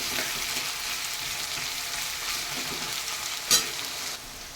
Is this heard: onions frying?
yes